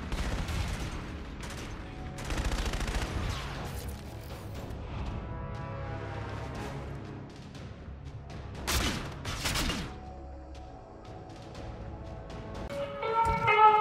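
Gunfire in a Call of Duty: Infinite Warfare match, scattered bursts and single shots with crashes and clanks between them, moderately loud against a game soundtrack.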